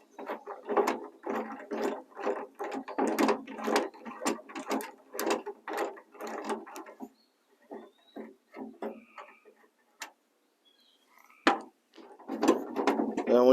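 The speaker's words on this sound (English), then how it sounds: "We'll go ahead and break those loose, and then we'll remove them." Close ratcheting clicks as a ratchet breaks loose and turns out 13 mm tailgate bolts on a Chevy Silverado, in several rapid bursts with short pauses between them.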